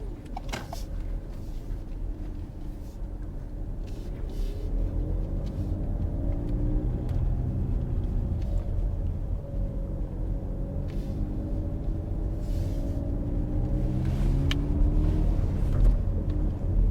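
A car pulls away during a mock driving test near Apex Corner in Hendon, a steady low engine rumble building gently as it drives off, with no talk.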